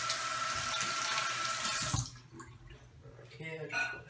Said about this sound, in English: Okay, I just wash my hands.